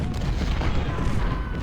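Artillery fire from a Civil War battle in Ultimate General: Civil War, a dense, continuous low rumble of booming cannon shots blending together without pause, fairly loud throughout.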